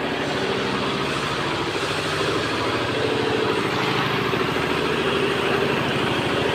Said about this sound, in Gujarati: જનરેટર હાલે ને એટલે હું કંઈ બોલી નહીં